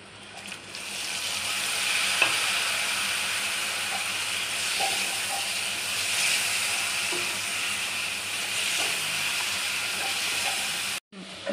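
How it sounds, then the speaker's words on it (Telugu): Dry prawns and tomatoes fry in a pan with a continuous close sizzle and hiss, faint scrapes and clinks of stirring scattered through, and a brief cut just before the end. "ఈ విధంగా ఇలా ఫ్రై అయిన తర్వాత మనం దీంట్లోకి టమాటోస్ వేసుకుందాం."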